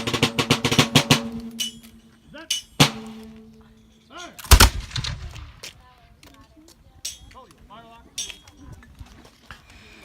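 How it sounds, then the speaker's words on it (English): British musket volley fire at Old Fort Niagara, a few sharp gunshot cracks with one loud boom midway, heard between stretches of someone talking and metallic clinks. "So this kind of volley fire is very effective."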